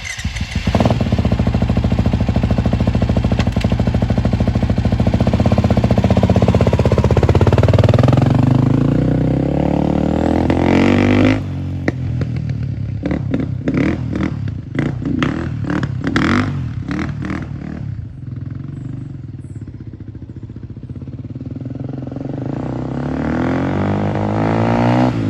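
A 2013 Beta 450 motorcycle ridden up and down a driveway: a loud engine revs and rises in pitch, drops back, then putters and pulses unevenly before building again, close by with no talk.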